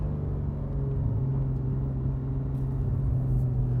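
A Porsche 991 GT3 fitted with a Dundon Motorsport exhaust and headers idles with a deep, steady rumble, loud and close with a constant low drone and no talk over it.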